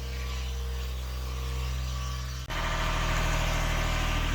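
Steady mechanical drone of a Genie lift engine running outside during roof cleaning, a low humming idle that abruptly shifts to a louder, rougher throttle-up halfway through, continuous and moderately distant.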